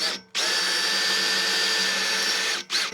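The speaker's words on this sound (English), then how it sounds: "I'm just going to poke a couple holes in here. Our poor little Makita's getting kind of tired here." A Makita power drill with a dull bit drilling holes for a boom extension runs as one loud, steady whine for about two seconds, with a short restart at the end.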